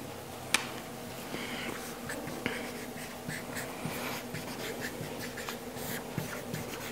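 Pen writing on paper while working a maths function problem, a continuous soft scratching with small taps and strokes, close and fairly quiet, with no one speaking over it.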